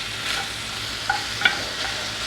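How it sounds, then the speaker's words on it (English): Ground beef with garlic browning in a pan gives a steady, close sizzle and frying hiss, with a couple of soft scraping clicks from stirring. "I'm continuing to brown my ground beef here"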